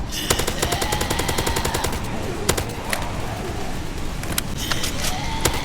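Rapid automatic gunfire in a Roblox zombie attack game, steady bursts of shots running continuously throughout with a few louder single cracks, dense and loud with no talking.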